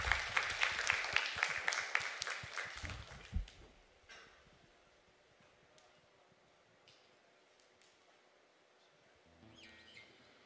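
Church congregation clapping together at a Sunday worship service, rhythmic claps for about two seconds that quickly fade, followed by a quiet room with faint chirpy sounds and a brief noise near the end.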